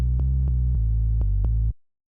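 A Serum synth bass patch in FL Studio, set to a sine wave with sync window for a house track, plays clean sustained low notes retriggered about five times in a steady rhythm before cutting off abruptly.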